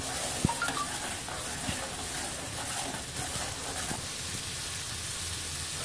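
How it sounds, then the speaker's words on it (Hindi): A spoon stirs homemade ginger and onion hair oil as it cooks in a pan. A steady, moderate sizzle runs throughout, with a few sharp spoon clinks and scrapes near the start and no talking. "मैं इसको अच्छे से चम्मच हिला लूंगी ताकि एक जैसा हो जाए"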